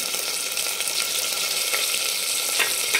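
Mutton fat hits golden fried onions in hot oil and sizzles in a dense, continuous crackle, with faint stirring underneath.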